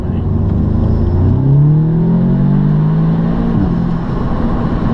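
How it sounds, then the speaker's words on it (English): An Audi S3 saloon engine drones and rises in pitch as it accelerates, with a deep breathy intake roar close by, steady and loud. "you can proper hear the engine sucking everything in"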